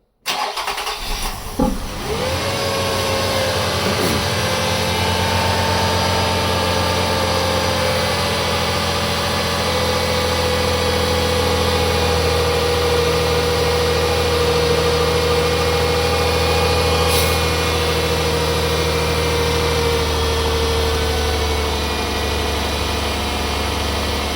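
A Nissan engine cranks and catches, then settles into a steady, close idle with a constant mechanical hum during a CVT transmission fluid flush, with no voices.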